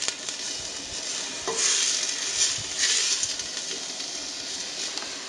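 A steady crackling sizzle of onions frying in a hot pan, with occasional stirring scrapes swelling the hiss for a moment.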